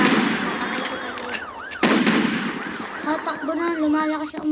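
Gunfire in the Roblox Brookhaven RP game: a few sharp, abrupt blasts cut through warbling, siren-like electronic tones.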